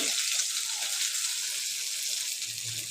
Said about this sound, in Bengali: দেখছেন কী করে ডিম ভাজে